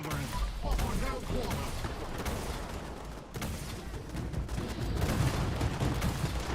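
Artillery fire in Fallout 76: a dense, continuous barrage of booming blasts and rumbling impacts, loud and sustained, with a voice talking under it.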